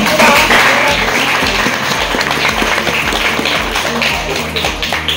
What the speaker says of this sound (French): Voilà, on applaudit pour la dame.